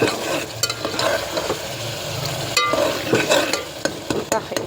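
Mushroom masala with tomatoes fries in a pan, a steady close sizzle under busy scraping and clacking stirs of a spatula as the tomatoes are chopped and mashed down.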